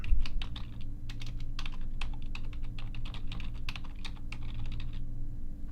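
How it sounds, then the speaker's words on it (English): Keys clatter on a computer keyboard in quick irregular bursts, a name being typed in at close range over a steady low hum, with no talking. "I'm going to type in my name"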